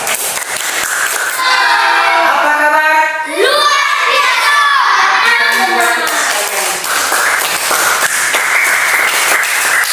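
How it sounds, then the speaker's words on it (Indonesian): Classroom applause for a student group, loud dense clapping mixed with children's shouts and cheers, a brief dip midway, with a teacher's voice speaking over it. "tepuk tangan buat kelompok 3"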